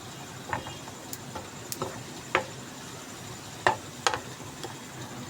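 A spoon stirs green moong dal with cumin in a pot, several scattered clinks and scrapes against the metal over a faint background hiss, close and fairly quiet, no voices.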